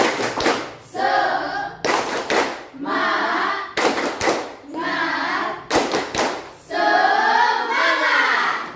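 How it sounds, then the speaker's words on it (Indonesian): A classroom group claps a rhythmic spirit cheer together, sharp bursts of synchronized hand claps alternating with chanted children's voices in a patterned call, ending on a longer sung phrase. "1, 2, 3, tepuk semangat"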